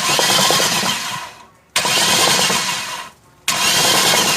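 Toyota Corolla 3ZZ-FE engine under rebuild being cranked by the starter in three loud, close bursts separated by brief silent pauses, with no voices.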